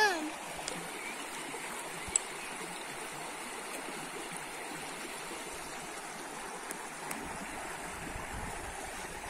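Clear mountain water runs down in a steady, soft rushing flow at moderate distance, with occasional small splashes and clicks over a constant wash.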